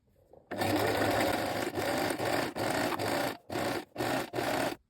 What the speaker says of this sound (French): Vous allez donc réaliser une surpiqûre à 5 mm ici par rapport à votre couture précédente et vous allongez votre point sur 4